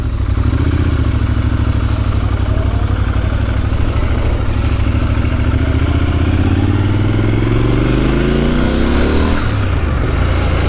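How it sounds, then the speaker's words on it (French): A 2022 Triumph Scrambler 1200 XE twin-cylinder motorcycle engine runs loud and close, holding a throbbing idle before revving up in a steady rising sweep toward the end, with no talk. "Le bruit est sympa. C'est un 1200 bicylindres"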